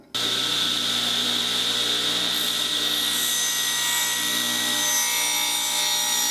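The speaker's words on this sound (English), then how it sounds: "The jig hooks up to the drill press. And this is kind of cool because it drills square holes." Steady, loud motorized whine of a drill press fitted with a tenon jig, boring square holes in wood; one continuous drone with a sharp tonal hum from start to finish and no talking.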